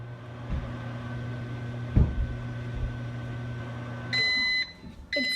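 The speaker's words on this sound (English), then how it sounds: "Here, I'm putting in 30 seconds in the microwave." A microwave oven heating slime made with gel shaving cream gives off a low, steady electric hum with a faint thump partway through. It then finishes with loud, sharp completion beeps.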